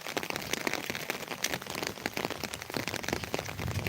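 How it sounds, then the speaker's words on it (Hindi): Steady rain falls continuously through the monsoon season, its dense pattering on surfaces forming a loud, unbroken wash with scattered sharper drop hits throughout. "बारिश लगातार हो ही जा रही है, धीम तेज लगा है"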